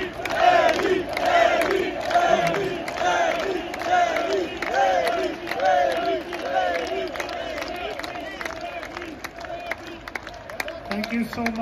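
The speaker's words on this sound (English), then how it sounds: "thanks for cheering for us" Large metal festival crowd at Hellfest cheering and shouting together in a dense, loud roar that swells in repeated chant-like waves before gradually thinning out.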